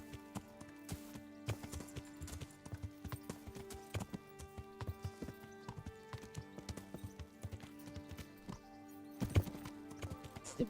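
Video game horse hooves clip-clop in a steady trotting rhythm, close and moderately loud, with occasional louder thuds and a faint background music drone throughout.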